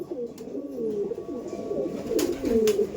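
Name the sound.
pigeons cooing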